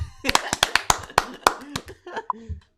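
A quick run of loud, close hand claps, around ten sharp hits in an uneven rhythm, with a voice talking over and after them on a podcast.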